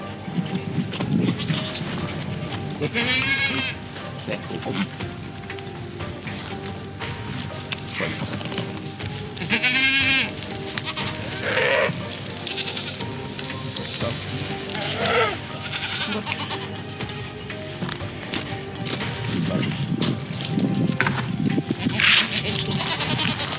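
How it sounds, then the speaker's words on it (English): Several goats bleat at intervals, some near and some farther off, over a busy outdoor background with occasional thumps. "Come on, goats."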